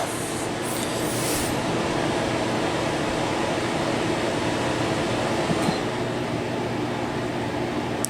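A Danby/Idylis portable air conditioner runs with its compressor off, giving a steady, loud fan whoosh of broad airflow noise that holds constant throughout.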